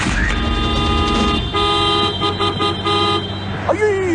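A car horn blares in long, loud sustained honks, close by, broken by brief pauses, with a voice breaking in near the end.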